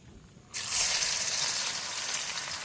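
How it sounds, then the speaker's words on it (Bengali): Onions hit hot mustard oil in a wok with bay leaves, dried chillies, whole garam masala and cumin for a duck curry, bursting into a loud, steady sizzle that holds close and strong throughout. "পেঁয়াজটা ভেজে নেব"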